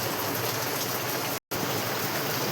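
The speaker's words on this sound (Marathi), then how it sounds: "आणि पाऊस पण खूप चालू बरं का आमच्या इथे" Steady rain pouring down, a dense, even hiss across the whole clip with a brief dropout in the middle.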